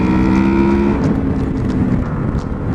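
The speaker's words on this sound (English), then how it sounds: "that was the VTEC kicking in" A Honda VFR800X Crossrunner motorcycle engine revs hard in third gear toward 6,500 rpm as the VTEC engages, a loud close engine note that shifts in tone amid heavy wind rush, with no talk.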